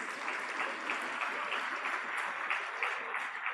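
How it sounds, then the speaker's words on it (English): Steady applause from a convocation audience at IIM Kozhikode fills the hall, dense and even clapping continuing without pause at moderate distance. "Please applaud the achievements of your classmates."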